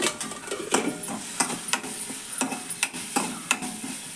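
Broad beans fry in a pan, with a soft sizzle under repeated sharp scraping and tapping strokes of a spatula, roughly every half second.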